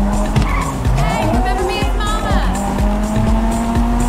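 A stolen car driven hard in GTA V, its engine revving steadily and loudly with repeated sharp tire squeals and skids through turns, close and continuous.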